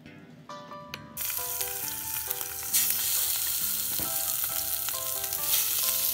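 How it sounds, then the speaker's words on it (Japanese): Chicken drumettes placed skin-side down into hot olive oil in a pot, bursting into a loud, close sizzle that keeps crackling steadily with a few utensil clinks. "温まったら鶏手羽元の皮目を下にして焼き付けていきます。"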